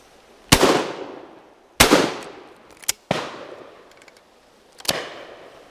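Four sharp shotgun blasts at an outdoor clay target shoot, spaced irregularly over a few seconds, each loud and close with a long echoing decay across open ground. A faint extra crack sounds between them.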